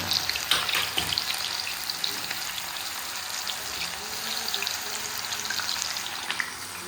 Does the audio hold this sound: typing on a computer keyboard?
no